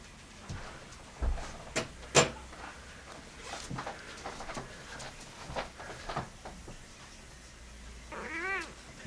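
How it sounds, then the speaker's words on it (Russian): A cat indoors by a bright window gives a few short, faint meows and a longer wavering cry near the end, amid soft scattered clicks and rustles from grooming and movement. "Как она сказала, мяу красиво"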